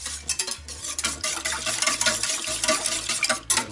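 Pancake batter for meat-filled crepes is whisked in a bowl, a steady, fast rhythm of close scraping strokes with nobody talking.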